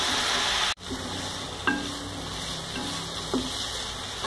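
Cabbage and moong dal sautéing in a pan for a poriyal, a steady soft sizzle with a few light stirring scrapes and one sudden lid or utensil clatter, close and quiet, with no talk.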